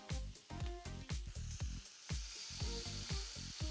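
Veal skewers marinated in sage, fennel and lemon cooking in a hot pan, a steady close sizzle with repeated bursts of louder frying and spitting.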